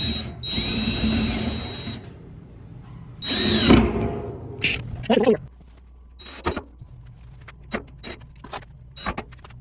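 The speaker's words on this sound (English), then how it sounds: "So I'm going to just screw those legs down so I don't have to worry about the barrel falling off as I lift the tubing over it." A power drill whirs in loud close bursts as screws drive the legs down onto a wooden barrel stand for a pool, followed by a series of short sharp clicks and knocks, with no talking.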